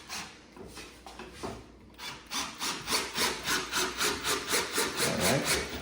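Screws driven into pre-drilled wood while assembling an oversized outdoor rocking chair, heard as a rhythmic series of rasping, grinding pulses that grow steadier and louder after a few hesitant starts, close up and without talk.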